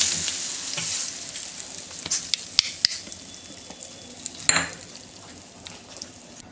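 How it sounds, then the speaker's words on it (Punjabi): Spices and turmeric sizzle in hot oil for an onion pickle, a close crackling fry broken by sharp clinks of a spoon stirring against the pan. "ਇਹ ਸਾਰੇ ਮਸਾਲੇ ਇਹਨਾਂ ਨੂੰ ਚੰਗੀ ਤਰ੍ਹਾਂ ਆਪਾਂ 2 ਮਿੰਟ ਭੁੰਨ ਲਵਾਂਗੇ"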